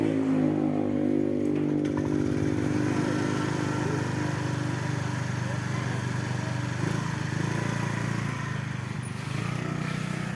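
A Honda Vario 125 scooter engine idles steadily after repair of a fault that made it lose power and die when throttled, a close, even hum with a low drone that holds for the whole stretch.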